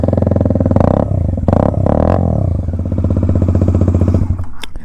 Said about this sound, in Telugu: ఒకసారి అయితే మీకైతే ఎగ్జాస్ట్ వినిపిస్తా.